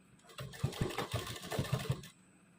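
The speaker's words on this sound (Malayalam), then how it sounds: "അതിൽ സ്റ്റിച്ച് ചെയ്ത് തുടങ്ങാം." Sewing machine running while stitching the hem of a pant leg, a steady mechanical whir about a second and a half long with a regular chugging pulse, close up and without talk.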